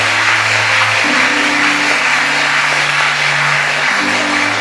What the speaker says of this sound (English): give Lenore a round of applause